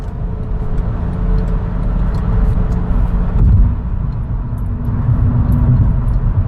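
A car driving along a road on the morning commute, heard from inside as a steady low engine and road rumble with a brief swell midway and faint rattles above.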